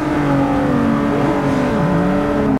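A Lotus Exige S accelerates hard on a speed run, its engine note climbing loud and close through about two and a half seconds of sustained revving before cutting off abruptly.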